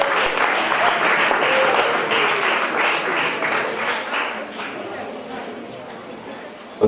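Sustained applause from an audience at an awards closing ceremony, dense and loud clapping that slowly fades, with a constant high insect-like chirping drone underneath.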